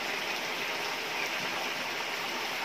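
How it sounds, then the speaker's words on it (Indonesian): Steady morning rain pours down in a dense, even hiss that holds at the same level throughout, with no other sounds standing out. "hujannya mulai reda ya teman-teman"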